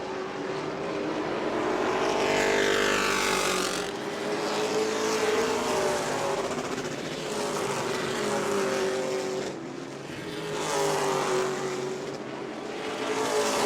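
A low, underpowered race car engine drones steadily at a distance during a New Smyrna Hoosier Series race, its pitch wavering slightly as it rises and dips over several seconds.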